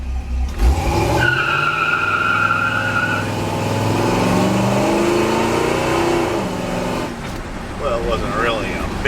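A 1946 Ford truck revs and spins its tires in a short burnout, engine roaring steadily with tire squeal, while people talk over it.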